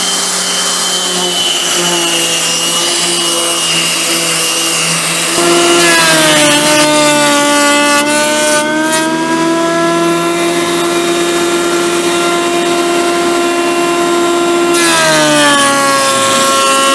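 Drum sander working a wooden cutting board, a loud close mechanical whine with a steady motor hum whose pitch shifts and rises as the workpiece feeds through, continuous for the whole stretch.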